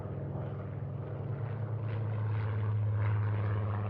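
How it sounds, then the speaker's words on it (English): A WWII propeller aircraft roars on the Midway runway during takeoff. The engine drone is steady and loud and builds slightly toward the end, with no voices. "Aircraft erupted from the Midway runway, some to save themselves from attack, others to defend the island."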